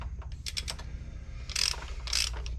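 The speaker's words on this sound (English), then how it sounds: "So these two bolts here are your starter motor. I'm gonna undo those two." A ratchet clicks in short bursts while undoing the starter motor bolts on a 370Z or G37, with two louder, sharper runs of ratcheting near the end, close and without talking.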